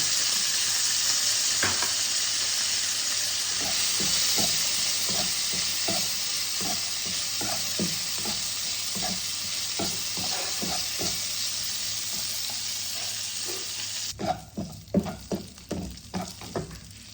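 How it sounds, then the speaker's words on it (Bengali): Raisins fry in hot oil in a pan, a constant close sizzle under repeated light stirring clicks; the hiss drops away near the end, leaving a few louder scrapes and knocks of the spoon. "এবার কিশমিশগুলোকে ভেজে নেব।"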